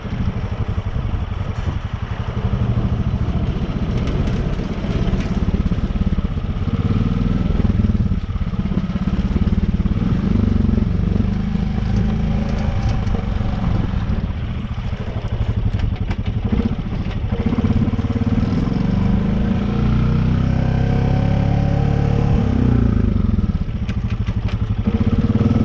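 A Can-Am 650 ATV engine rumbles steadily while descending a hill in first gear and two-wheel drive, a loud, close, continuous low drone with slight shifts in pitch and clatter throughout, with no talk.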